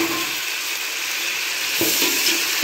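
Onions and tomatoes sauté in a pan with a constant bright sizzle close by, broken near the end by a few stirring scrapes and thumps; no one speaks.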